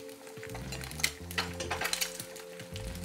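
Eggs fry in hot oil in a pan with a soft sizzle, while a spoon clinks and scrapes against the metal as oil is basted over the yolks, giving several sharp taps over a steady hiss.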